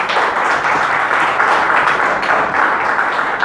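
A church congregation applauds together during a Portuguese-language sermon, a steady, dense wash of clapping that holds at an even, fairly loud level throughout without breaks.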